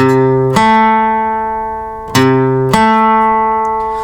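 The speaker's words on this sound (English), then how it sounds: "The major 6th interval sounds like this." Two sustained guitar tones sound together as an interval, struck three times with long ringing decays between attacks.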